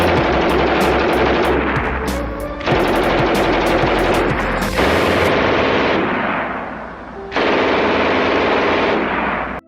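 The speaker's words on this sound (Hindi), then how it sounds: "आइए देखते हैं वो दृश्य जब वर्ल्ड वॉर 2 के समय पर ये बंदूक चला करती थी।" Bursts of rapid, loud automatic fire from a World War II machine gun rated at 1200 rounds per minute, several long sustained bursts separated by brief pauses.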